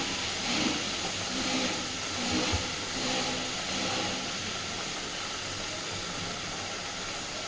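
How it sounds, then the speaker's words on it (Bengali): Spices sizzling in a hot pan while being lightly fried for a soybean curry, a steady close hiss running throughout with faint stirring bumps. "এইবার আমি মশলাটাকে হালকা একটু কষে নেব।"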